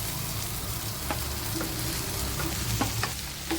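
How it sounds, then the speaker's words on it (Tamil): Okra stirred into a pan with softened onion and tomato, a steady moderate sizzle and fry with occasional scrape and clink of a spoon against the pan, no voices. "வெண்டைக்காயை சேர்த்து நல்லா வதக்கி விட்டுக்கலாம்."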